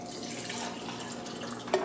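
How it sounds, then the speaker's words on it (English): Kangen water from a K8 ionizer machine pours steadily into a container for close to two seconds, a continuous liquid splash with a small bump near the end. "So let me pour this K8 water in."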